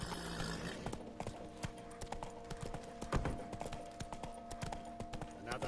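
Horse hooves clip-clopping at a trot in the video game Witcher 3, a steady faint rhythm of hoof beats under quiet game ambience.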